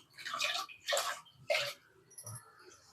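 Water is poured and run over food being rinsed in a home kitchen while preparing eggplant masiyal, three short splashing gushes in a row, then a faint trickle in a quiet room.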